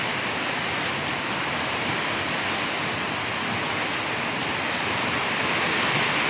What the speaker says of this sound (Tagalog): Bumanat na ng lakas-lakas ng ulan.